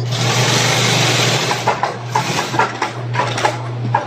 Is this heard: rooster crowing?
no